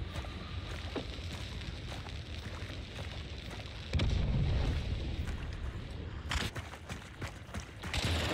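Explosion in Hunt: Showdown, a sudden heavy boom bursting out midway over ongoing gritty ambient rumble, followed by scattered crackling and further rough bursts, fairly loud and close.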